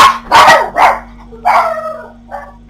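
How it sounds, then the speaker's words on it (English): Dogs bark in the video game Hitman: Codename 47, a quick burst of three loud barks followed by a longer bark and a fainter final yelp, close and isolated over a low steady hum. "If you did, then it's just the dogs."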